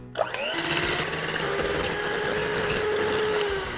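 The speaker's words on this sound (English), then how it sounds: "Then we're going to whisk this using a mixer." Electric hand mixer whisking sugar into Japanese Castella cake batter, a steady close whirring motor hum with a rising pitch at the start, then running evenly and loud throughout.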